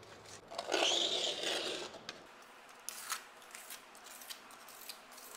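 A blade scraper rasps across a kitchen countertop in one long, fairly loud scrape lasting about two seconds, then gives way to a few faint, brief scratches and taps.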